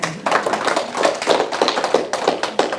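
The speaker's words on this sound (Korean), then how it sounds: "박수 한번 쳐드려요." An audience claps in a lecture hall, a dense burst of many hands with rapid uneven slaps that holds steady for a few seconds and then thins at the end.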